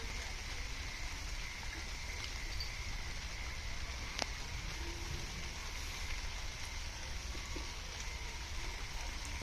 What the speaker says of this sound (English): The rain could continue for 3 more days.